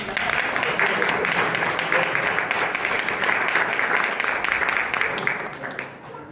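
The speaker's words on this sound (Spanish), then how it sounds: "un aplauso para ellos" Dense audience applause at a public talk on data centres, steady and full for several seconds before fading slightly at the end, with faint voices mixed in.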